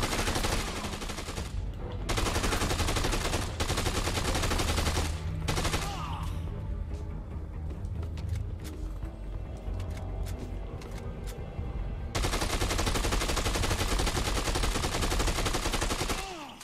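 Rapid automatic gunfire from the video game Dead Rising 2: Off The Record, loud sustained bursts of shots with brief gaps and a quieter stretch of scattered single shots before the heavy firing resumes.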